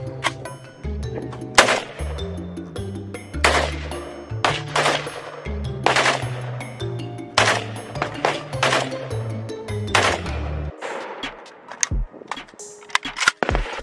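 A real AKR assault rifle fires in repeated short bursts of sharp, loud automatic shots separated by brief pauses, with metallic clinks between bursts and quieter handling noises at the end.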